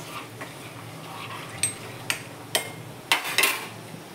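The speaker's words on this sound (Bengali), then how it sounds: "ধুয়ে রাখা চালটা দিয়ে দিলাম, একবার নাড়িয়ে দিচ্ছি" Washed rice is stirred in a cooking pot with a metal utensil, giving a few sharp, separate clinks and scrapes spaced irregularly over a quiet background hiss.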